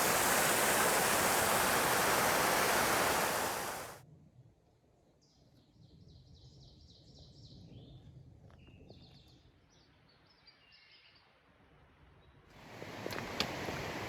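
Water cascades rush loudly beside a hiking trail, a broad roar at the start that drops away to a quiet stretch with faint bird chirps, then swells back in near the end.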